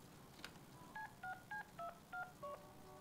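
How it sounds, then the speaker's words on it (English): Telephone dialing in the Deadpool video game: a quick series of about six short electronic keypad tones, evenly spaced, clean and fairly quiet. "Passer un coup de fil."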